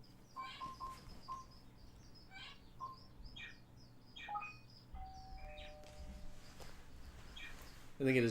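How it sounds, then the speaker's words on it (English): A stock phone doorbell tone plays a sequence of bright, chirpy electronic chimes and tweets at moderate volume, with a louder tone near the end. "I think it is just a stock doorbell sound."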